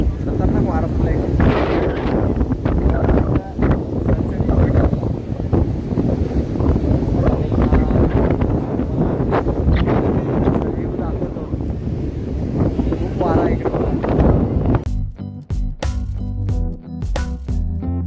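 Strong, steady gusts buffet the microphone on the seaside at Harihareshwar, roaring almost without break and drowning out a faint voice, then easing suddenly near the end.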